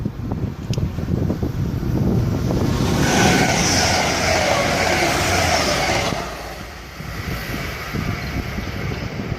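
A Virgin Trains passenger train, class 180 unit 180111 on the London King's Cross to Hull service, rumbles steadily past nearby at Peterborough, with a rushing wind-like roar that swells and then eases as it moves away.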